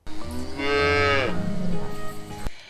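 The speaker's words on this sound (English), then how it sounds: "Then he let out his very first moo." A young calf lets out a long, loud, rising moo close by, which then trails off into a lower, rougher groan before stopping, with no talk around it.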